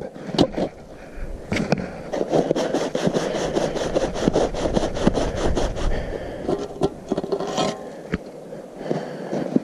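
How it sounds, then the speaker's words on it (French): Camping cookware pots are scrubbed clean with snow at a winter bivouac in the Vosges, making rhythmic, close scraping and rasping strokes with occasional knocks of metal. "petite astuce du jour pour nettoyer les popotes dans la neige"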